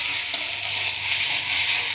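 Spice paste of ground ginger, cumin and chilli frying in oil, a steady close hiss and sizzle with faint stirring scrapes throughout, no voices.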